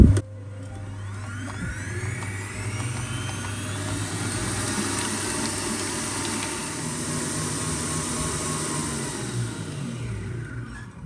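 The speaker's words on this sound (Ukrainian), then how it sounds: "Встановлюю насадку вінчик, закриваю і вмикаю, збиваю до пишної пишної піни." An electric mixer with a whisk attachment beats eggs with vanilla sugar into a fluffy foam for Easter paska, a steady mid-loud motor whir with a high whine that holds for about eleven seconds.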